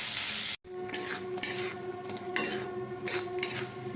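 Aloo masala with Kashmiri chilli powder is stirred in a pan: repeated spoon scrapes about every half second over a continuous sizzle, close and fairly loud, with a brief cut near the start.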